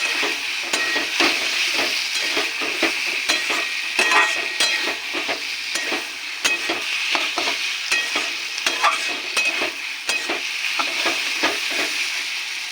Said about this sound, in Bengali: মশলায় তেল ছেড়ে এসছে এবার দিয়ে দেবো আলু ভেজে রাখা আলু আবার কষিয়ে নেব